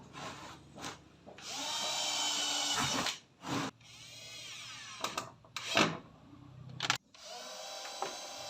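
A power drill whirs in loud sustained bursts of several seconds with brief pauses between, close by, during outdoor repair of a gate at a house under construction in the Philippines.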